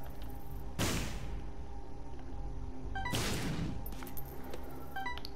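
Rapid projectile fire in The Binding of Isaac: Afterbirth+ during a challenge run, with two loud, broad whooshing bursts and quick clicky shot sounds over steady game music, no talking.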